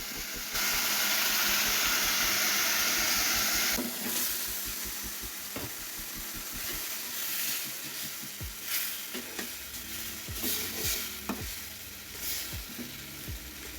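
Chicken pieces sauté in a pan with a loud steamy sizzle that hisses strongly at first, then eases into a softer frying crackle broken by repeated scraping and clacking stirs.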